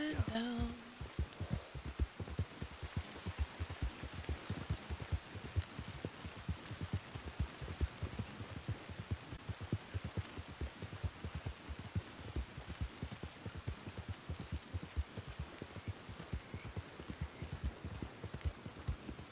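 Steady rain pours down in Red Dead Redemption 2, a dense continuous patter of drops with a faint voice at the start.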